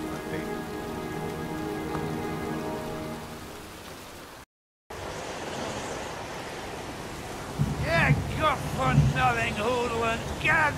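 Heavy rain pours in the Heavy Rain video game, a dense steady hiss of drops on surfaces with wind, interrupted by a brief gap, and voices speak over the downpour near the end.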